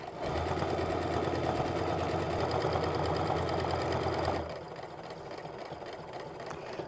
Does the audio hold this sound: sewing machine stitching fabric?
yes